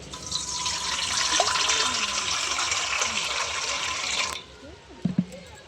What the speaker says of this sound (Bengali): একটা গামলাতে জল দিয়ে দিচ্ছি।